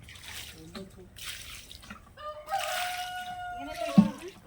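A chicken crows and clucks nearby, a drawn-out call near the end, with splashing water and a little talk in the background.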